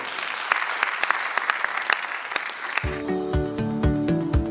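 An audience at a women-in-education event claps in a dense burst of applause, which fades under a melodic musical passage that takes over midway.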